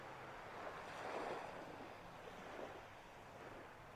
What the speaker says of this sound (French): Vous pouvez écouter le bruit des vagues, de la mer.